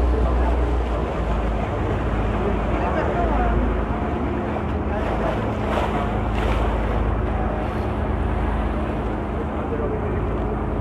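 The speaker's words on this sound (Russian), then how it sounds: "ветер, бриз морской." Steady broadband wind and sea breeze rushing along a Venice waterfront, continuous and fairly loud throughout, with faint water and boat sounds underneath and a few brief gusts.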